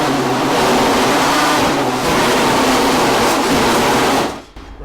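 Suzuki XR69 racing motorcycle, an engine being started, a loud continuous rough roar that holds for several seconds and then cuts off abruptly.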